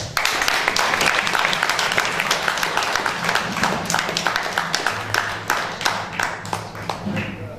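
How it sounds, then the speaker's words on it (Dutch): An audience at a celebration applauds Magic Michael. The clapping is loud and lively, with distinct claps and taps close by, and a voice talks over part of it. "Mag ik u een applaus vragen voor Magic Michael?"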